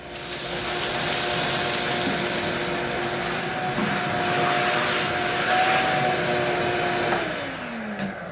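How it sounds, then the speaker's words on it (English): A loud vacuum cleaner roars steadily throughout while cleaning out a Kitchen Queen 380 stove, its whine sliding downward at the very end as it powers off. "And then I'm going to get the vacuum and clean that out."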